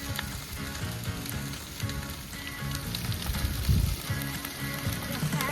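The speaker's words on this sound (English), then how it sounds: "That is a crazy fire." A large brush fire during ranch land clearing, fanned by wind, gives off dense crackling and popping over a continuous roaring hiss, loud and close, with heavier bursts now and then.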